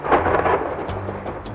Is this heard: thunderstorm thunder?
yes